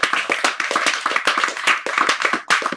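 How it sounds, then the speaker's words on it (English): Clapping after a poetry reading held over Zoom, a few close, distinct hands heard as sharp uneven claps in a loose rhythm rather than a dense crowd wash. "Let's give them another round of applause for our wonderful reading this evening."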